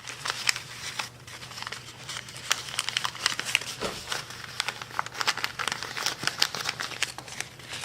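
Paper being folded and crinkled by hand for seed starting, with close, soft rustles and sharp crackles arriving in quick irregular bursts throughout.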